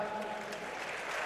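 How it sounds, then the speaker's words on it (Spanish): Applause for the winning fighter at an Urban KO 2011 event in Barakaldo, a brief burst of steady clapping under a commentator's voice. "Ese fuerte aplauso"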